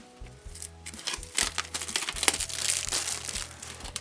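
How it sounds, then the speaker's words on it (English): Thin plastic wrap is pulled off an AirPods Pro box by its pull tab, giving a close, steady crinkling rustle with a few sharper crackles that runs the whole time, with no talking. "So you pull it, and the plastic gets removed."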